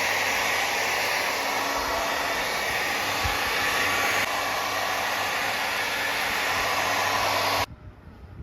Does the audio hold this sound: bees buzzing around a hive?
no